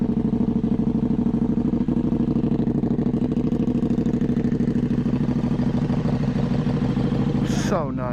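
A motorcycle engine runs steadily at a low, throbbing idle close by, loud and constant throughout, with a brief higher whine near the end.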